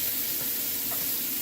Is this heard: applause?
no